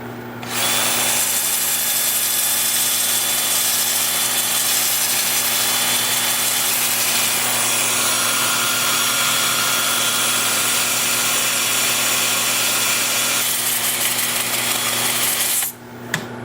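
A power sander with 180 grit Sandoflex abrasive works a wood turning on a lathe, giving a steady, loud, continuous whir with a constant motor hum that runs unbroken almost to the end before cutting off.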